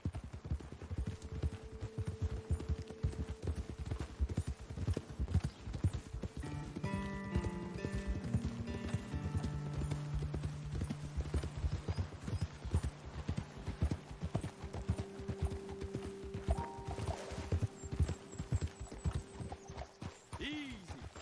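Horses' hooves clip-clop steadily in a video game as riders move up toward a ledge vantage point, with an occasional whinny and spoken dialogue over the rhythmic footfalls.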